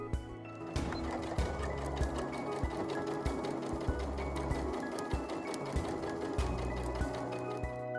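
A sewing machine runs continuously up close, stitching the edges of a fabric face mask. The rapid mechanical needle rattle has small clicks throughout.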